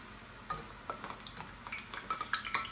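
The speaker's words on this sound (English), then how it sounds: "start frying our tortillas" Tortillas frying in hot oil, a steady sizzle with small crackles and pops and faint clinks of a utensil, no voices.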